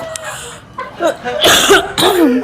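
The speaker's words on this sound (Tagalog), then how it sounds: "Sorry, inuubo ako." Two harsh, loud coughs burst out close by, one after another, with a bit of murmured voice around them.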